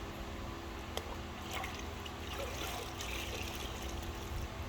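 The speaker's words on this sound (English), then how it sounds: "So you wring your sponge out in the bucket." A wet sponge being wrung out into a bucket while detailing a car, water trickling and dribbling steadily into the pail at close range with no talk.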